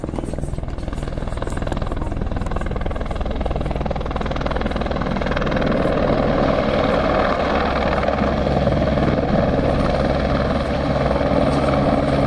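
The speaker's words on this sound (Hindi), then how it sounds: "और दूसरा हेलीकॉप्टर आ गया अभी" A pilgrim-shuttle helicopter arriving at the Vaishno Devi helipad, its rotor thudding and engine whine holding loud and steady, growing slightly fuller as it nears.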